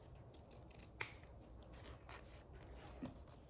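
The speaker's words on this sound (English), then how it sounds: "So I don't go too far, but I just cut" Scissors snipping through leftover cloth for a slow-stitched fabric bowl, a few quiet close cuts with one sharper crisp snip early on and a softer one near the end.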